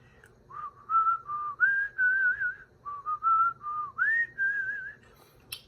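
Someone whistles the Happy Birthday melody solo, a clear, close, pure-toned tune in short phrased notes with brief breaths between, over a quiet background.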